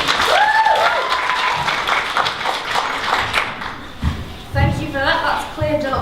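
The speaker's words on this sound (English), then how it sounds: "Clap if you like us" Audience at a university drama society variety show breaking into applause, mixed with voices and some tapping, swelling and fading over a few seconds.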